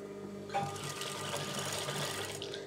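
A sewing machine stitching a semi Patiala pant starts up after a quiet moment and runs steadily, a close, continuous whirring hum with fast mechanical rattle throughout.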